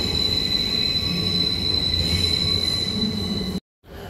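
A train at a station in Romania lets out a loud, sustained high wheel squeal over a steady rumble of rolling cars, cutting off abruptly near the end before the rail noise resumes.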